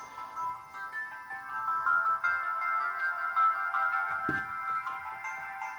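Thin, tinny music playing from the small built-in speaker of a Chuwi Vi8 tablet at maximum volume in Android, a narrow midrange tone with little bass, steady and moderately loud with a brief tap partway through.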